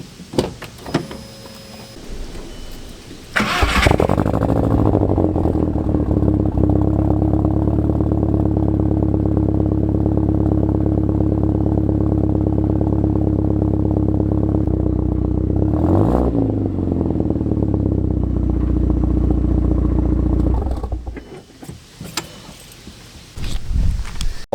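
A daily-driver car engine cranks and catches after a few seconds, then idles loud and close with a rough, uneven drone for about seventeen seconds, briefly revving once midway before cutting off.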